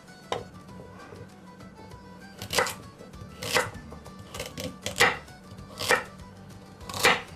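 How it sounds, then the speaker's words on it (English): A knife chops carrots on a cutting board in a home kitchen, about seven sharp, close strikes in an uneven rhythm with quiet gaps between them and no talk. "Let's get these ends off. Cut the carrots."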